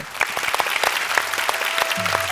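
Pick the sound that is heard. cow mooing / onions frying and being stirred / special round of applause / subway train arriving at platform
special round of applause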